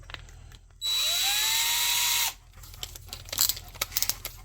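A DeWalt power drill spins a very soft brush against a carburetor bowl, giving a loud high whine of about a second and a half that climbs in pitch, then stops and leaves light metallic clinks and handling noises.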